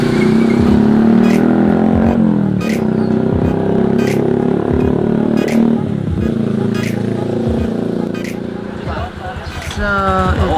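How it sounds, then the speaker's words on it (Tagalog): Cars and motorcycles climb a road uphill toward San Cristobal in Victoria, Oriental Mindoro, during the Kapakyanan Festival, with engines droning steadily and revving close by as people talk over them. "ito yun guys yung mga sasakyan natin. Aakyat ng San Cristobal."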